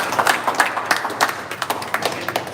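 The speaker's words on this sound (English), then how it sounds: "can we have one round of applause for everybody first of all" At a tournament ceremony, an audience applauds in a short burst of brisk, moderately dense clapping with distinct individual claps audible in an uneven rhythm throughout.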